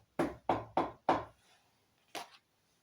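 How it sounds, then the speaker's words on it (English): Four firm knocks on a door of an old house, evenly spaced and close, followed by a pause and one softer single knock. "He ran up on the porch and knocked on the door."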